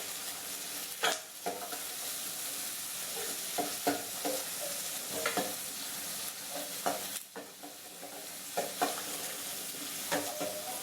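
Chillies, garlic and small onions sautéing in a pan for a tamarind fenugreek-leaf curry, a steady soft sizzle broken by occasional scraping stirs and clatters of the spoon, close and without talk.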